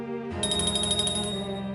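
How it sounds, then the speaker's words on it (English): A dinner bell rings in an Agatha Christie mystery game, a bright metallic chime repeating in quick, even strokes over a low ambient hum, clear and alone with no talk. "That sounds like the dinner bell."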